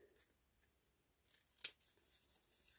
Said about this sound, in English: I always bring in a tag I've already got and just trim off those corners